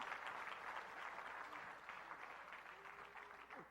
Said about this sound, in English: Clap right, that's a good place to clap.